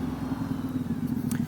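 A 2019 Ducati Diavel 1260 S fitted with a Termignoni exhaust, its engine running smoothly in a low steady drone while riding, with faint road and wind noise and no talk.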